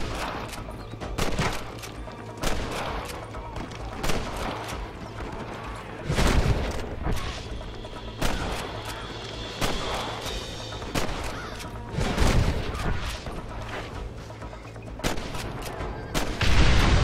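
Gunfire in a Red Dead Redemption shootout: repeated loud rifle and pistol shots crack in irregular bursts over a continuous background din, some blasts heavier than others.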